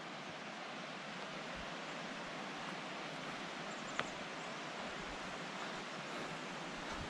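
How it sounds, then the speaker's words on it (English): A steady, faint hiss of rushing water from a distant waterfall on the South Fork Hoh River, Washington, continuous and even, with no voices. "I can definitely hear water"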